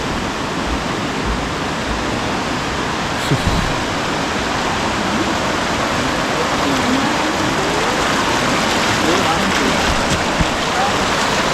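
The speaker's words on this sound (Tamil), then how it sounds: "அழகான முறையில் தண்ணி பாஞ்சு வருது" Water rushes and pours steadily along a stream at Kataragama, a loud, continuous broadband roar close by with no letup across the whole stretch.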